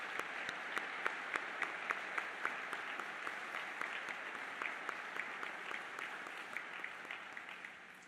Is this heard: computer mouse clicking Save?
no